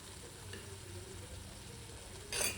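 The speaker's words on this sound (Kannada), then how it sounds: "ಈಗ ಬೇಯಿಸಿರೋ ಕಾರ್ನ್ ಹಾಕ್ಕೊಂಬಿಡೋಣ." Boiled corn fries in melted butter in a pan with a soft, steady sizzle up close, then a brief louder scrape or stir near the end.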